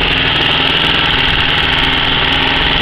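A warm car engine idles after an oil change, a loud, steady, close drone with an even fast pulse and no change in pitch, running alone without voices.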